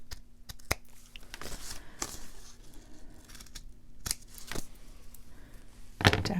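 Scissors cutting through paper for a Valentine's journal belly band: a few crisp snips spread across a quiet room, close and moderately loud, with a last sharp cut at the end.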